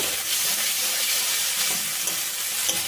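Potatoes with chopped chilli and turmeric being stirred and fried in a pan for a vegetarian samosa filling, a steady bright sizzle with faint scraping of the stirring, close and continuous.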